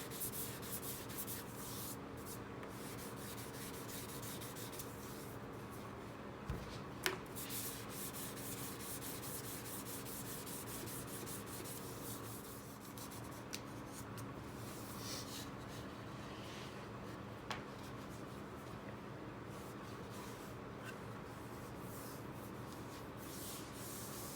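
A sanding block rubs steadily over the edges of a painted speaker cabinet, rounding them over with light pressure. The soft, continuous scratching stays faint and even for a long stretch, with no talking.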